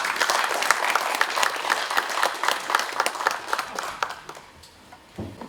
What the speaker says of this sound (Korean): 큰 박수 주시면 감사하겠습니다